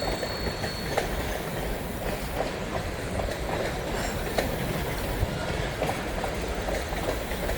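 A freight train rolls across a bridge over a river with a steady rumble and repeated rhythmic wheel clacks, continuous and moderately loud, no voices.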